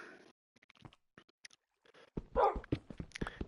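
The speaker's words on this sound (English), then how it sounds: "Yes, doggy, I can hear you." Dog barking in Minecraft: several short, clipped barks scattered through near-silence, followed by a denser burst of yapping and whimpering sounds, fairly quiet overall.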